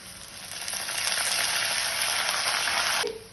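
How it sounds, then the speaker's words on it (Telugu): Mustard seeds, cumin, dried red chillies, onions and curry leaves sizzle steadily in hot oil for a cucumber dal tempering, a loud, continuous frying hiss that swells and then stops abruptly near the end. "ఆయిల్ వేడెక్కింది ఆవాలు వేసుకుందాము"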